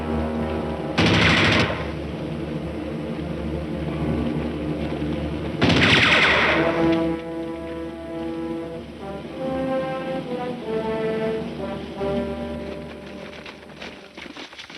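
Machine-gun and rifle fire crackle in a 1945 World War II infantry film. Two loud bursts of gunfire come a few seconds apart, the second one longer. Sustained tonal, horn-like sounds with a musical quality follow, with no talking.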